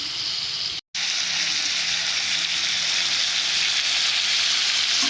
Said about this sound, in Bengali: এইভাবে কিছুক্ষণের জন্য আমি কষে নেবো